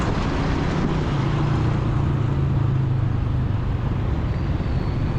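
Steady car traffic on a Karachi road, a continuous low rumble of engines and tyres with no distinct pass-bys or voices.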